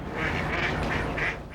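Ducks at a lake marina give four quick nasal quacks in a loose rhythm, fairly close and clear over quiet background.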